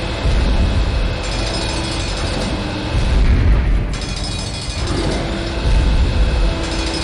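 A called elevator in the SiN shooter game grinding into motion: a loud, continuous mechanical rumble with heavy clanks and surges, swelling and dipping over several seconds.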